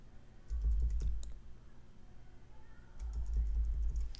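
Computer keys are pressed in two quick clusters of close, crisp clicks and taps, with a quiet pause between bursts and no talking.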